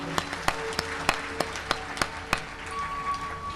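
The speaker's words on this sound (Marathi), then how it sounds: "तरी त्यांचे टाळ्या वाजवून आपण स्वागत करू।" An audience at a Shrimad Bhagavat Katha gathering in Pandharpur claps in welcome for a bharud performer. The claps come as sharp, evenly spaced strokes, roughly three per second, moderately close, over a soft room hum.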